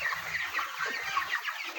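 Broiler chickens on a poultry farm fill the air with a dense, continuous chatter of overlapping clucks and soft chirps from a crowded flock, with no talking.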